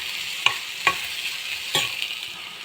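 Onions fry golden brown in a pan for a South Indian tomato thokku, giving a constant bright sizzle. Three or four louder scraping stirs punctuate it, close and clear, with no talking.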